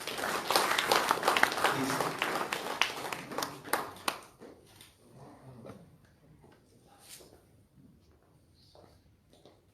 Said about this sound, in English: let us welcome him with a big applause